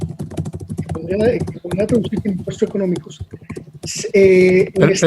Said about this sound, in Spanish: es que se oye muy fuerte el teclado